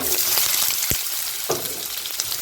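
Onions with curry leaves sautéing in hot oil for a paneer gravy, a loud continuous sizzle close up with a couple of brief scraping stirs, no talking.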